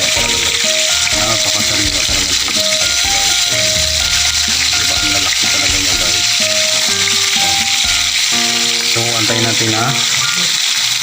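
Siga fish frying in oil in a pan makes a loud, steady, dense sizzle from start to finish, with occasional clinks and scraping over it while a person talks.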